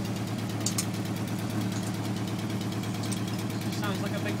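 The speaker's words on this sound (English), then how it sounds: "Sounds like a big jumble of exhaust blows to me" A VW Golf Mk2 with a draw-through turbo and a tacked-up, blowing exhaust idles nearby, giving a steady, uneven rumble with puffing leaks. Voices talk over it.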